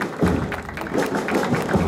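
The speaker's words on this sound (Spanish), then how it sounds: "Fuerte los aplausos para los abanderados" Crowd applause for the flag bearers at a school civic parade in Santa Rita, a dense, steady patter of clapping that fills the moment.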